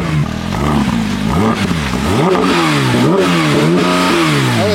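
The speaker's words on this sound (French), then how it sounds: "est-ce qu'on peut mettre 2 ou 3 petits coups de gaz sans trop taper haut?" A Porsche GT3 RS engine revving with a series of quick throttle blips, loud and close, the pitch rising and falling repeatedly without reaching the limiter.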